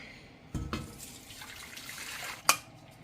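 Tteokbokki being strained in a kitchen sink: a sudden splash of water at the start, a soft trickling pour, then a sharp clatter near the end.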